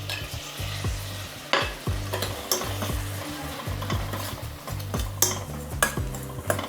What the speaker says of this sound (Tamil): இதுவும் சும்மா ஒரு 2 செகண்ட் நல்லா வதக்குங்க.